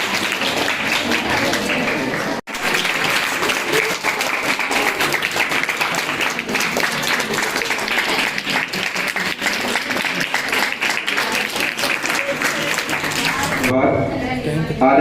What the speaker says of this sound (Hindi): तालियां एक बार बच्चों जोर से के लिए।